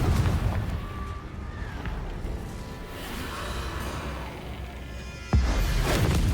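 Confringo fire spell explosions in the video game Hogwarts Legacy produce a rumbling, booming blast with a whooshing burst, followed by a sharp loud impact near the end.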